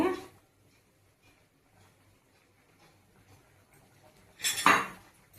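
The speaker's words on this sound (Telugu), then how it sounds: "కోఫ్తాలు వేసేయాలండి" Kofta balls made from bottle gourd drop into a pan of curry with one loud clattering splash near the end, after a quiet stretch of faint kitchen ambience.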